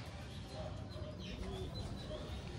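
A racing pigeon coos softly in a loft, faint repeated low calls over a steady background hum.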